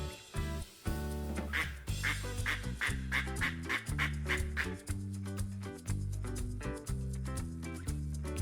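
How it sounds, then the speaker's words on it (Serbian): A farm duck quacks in a rapid series of short, loud calls over a steady musical backing, the bursts coming in a quick repeating rhythm through the middle of the clip. "Tako je, to je patka."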